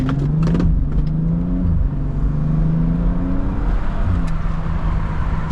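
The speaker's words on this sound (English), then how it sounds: "I put it into Sport Plus, and we're gonna use paddle shifters to do a fine acceleration test." BMW 328 in Sport Plus mode accelerating hard through paddle-shifted gears, engine droning and rising in pitch with a brief dip at a shift, heard from inside the cabin, loud and sustained.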